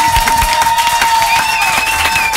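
Studio audience applauds a young singer on a French radio show, a brief burst of dense clapping that stays loud and steady throughout, with a little cheering mixed in.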